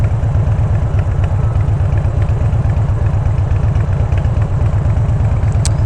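A motorcycle with a stock 96 motor, no cam and a high-flow exhaust idles steadily, a loud, close, continuous low rumble with even rapid pulsing and no talking.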